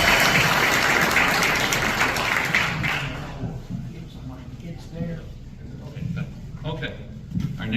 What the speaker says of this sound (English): Let's give him a round of applause, okay?